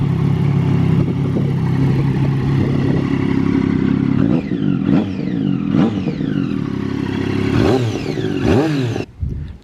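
A superbike motorcycle engine idles loudly and close by, then revs several times in sharp rising blips before cutting off at the end.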